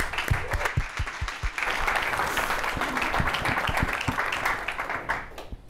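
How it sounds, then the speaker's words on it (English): A conference audience applauds a keynote speaker at a security token summit: a few distinct close claps at first, then dense, sustained clapping from many hands that fades at the end. "Now please give a round of applause for our highly accomplished keynote"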